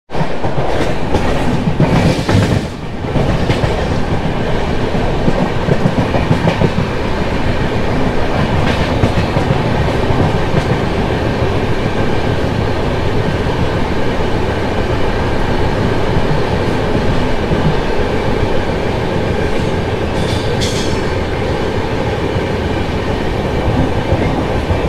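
The Coimbatore Express rolls along the rails at night, a loud, continuous rumble and rattle of wagons with rhythmic clickety-clack heard from inside the train, plus a brief sharp clunk early on.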